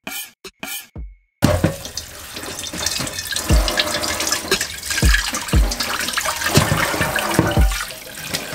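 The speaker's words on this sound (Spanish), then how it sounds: "Luego, lava unas 3 veces en agua fría." Cold water runs from a tap over pork skin being washed, a steady splashing stream punctuated by repeated thuds and sloshes as the skin is handled, close and fairly loud.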